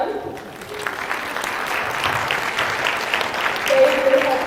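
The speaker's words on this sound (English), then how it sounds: "If you guys could give a round of applause to them." An audience at a high school information night for incoming ninth graders gives a round of applause, a full, steady patter of many hands that swells slightly toward the end, heard close and with no break.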